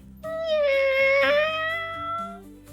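A single long, drawn-out meow from a cat, clear and close, rising then fading, over soft background music.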